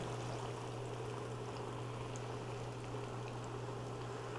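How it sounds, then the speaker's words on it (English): Battered green tomatoes frying in hot oil, a steady, even sizzle and bubbling that holds close and constant, with a low hum underneath. "we're going to go ahead and put our tomatoes in"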